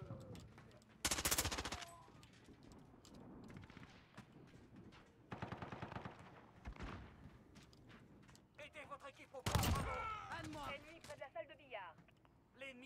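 Gunfire in a Call of Duty game played with pistols only, a few sharp loud shot bursts scattered among quieter game ambience, with players talking over it.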